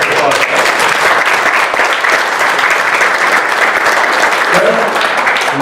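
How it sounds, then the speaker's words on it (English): A loud, continuous round of applause from guests at a chamber of commerce annual banquet in Dell Rapids, with dense clapping filling the room evenly for several seconds and crowd murmur mixed in. "So, round of applause"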